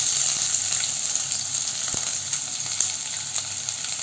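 Chopped onion and garlic fry in hot coconut oil, a steady close crackling sizzle that holds throughout with occasional small pops and a faint clink.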